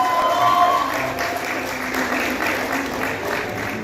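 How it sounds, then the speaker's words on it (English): A medical university graduation audience gives sustained applause, a dense, even clapping that holds steady for several seconds and fades slightly toward the end. "Let's give him a huge round of applause."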